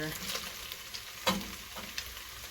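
Celery, carrots and onion hit a pan of browning beef, giving a steady close sizzle with a few sharp stirring scrapes and clatters, no voices.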